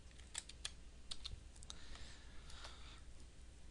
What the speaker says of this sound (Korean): 키보드에 탭을 누르시면 오른쪽으로 선택된 것이 움직여 가게 됩니다